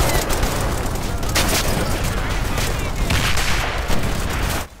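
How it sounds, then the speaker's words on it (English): A loud, dense barrage of gunfire and explosions fills a World War II video game battle with Panzerschreck rocket rounds, rolling continuously close by before cutting off abruptly at the end. "the hospital squad is chucking Panzerschreck rounds at anything it can see"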